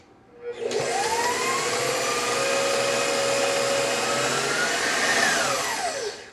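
An electric mixer whirs steadily for about six seconds as vanilla bean is blended into gluten-free angel food cake batter, its motor pitch rising slightly near the end before switching off.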